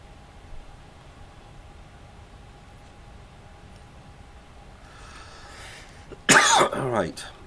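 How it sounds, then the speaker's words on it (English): A tickly cough bursts out near the end, a loud sharp hack followed by a rougher throat-clearing rasp, after several seconds of quiet room hum. "It's a tickly cough, not a COVID cough."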